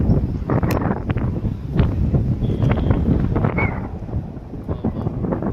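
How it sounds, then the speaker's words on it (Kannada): Cool wind gusting through a foggy pine forest at Kodaikanal, a steady broadband rush with buffeting on the microphone throughout, loud and close, with people talking over it. "ಕೂಲ್ ಗಾಳಿ"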